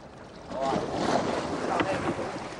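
A traditional Phu Yen fishing boat is rowed on the sea: continuous water sloshing and wash against the hull mix with wind buffeting, rising after the first half-second, with faint voices in the background.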